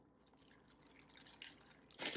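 White wine vinegar poured over cut cucumbers for a quick pickle, a faint trickling, dripping splash that builds into a louder pour near the end, with no talk.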